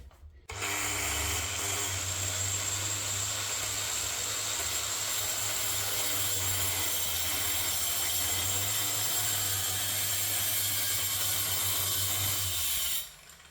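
Power tool fitted with a cutting disc, set to speed 4, runs steadily and loud at close range for about twelve seconds, a constant whine with a low hum, starting and stopping abruptly, no talk.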